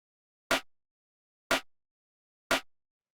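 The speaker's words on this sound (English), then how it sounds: "So the next thing we have here is the snare" Three dry, unprocessed snare drum hits ring out alone at even one-second intervals, each a sharp, bright crack with a short decay into silence.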